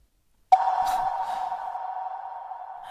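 A phone call connects with a sharp click, then a single steady electronic ringing tone holds evenly for over two seconds in otherwise quiet surroundings.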